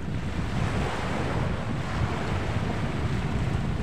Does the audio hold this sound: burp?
no